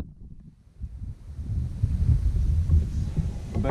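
Wind on a lake during kayak fishing, a low rumbling buffet against the microphone that swells after a brief lull and stays steady and close, with no talking.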